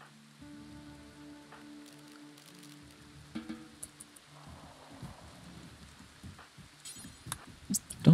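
Rain falls in a RimWorld colony, a soft steady patter that runs throughout under tonal game music and scattered clicks, growing busier toward the end.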